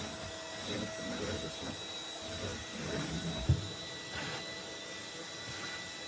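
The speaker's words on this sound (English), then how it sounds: "I gotta get better vacuuming." A vacuum cleaner runs steadily while a camper is cleaned, a continuous whining hum at moderate distance with slight shifts in pitch as the nozzle moves and a brief bump midway.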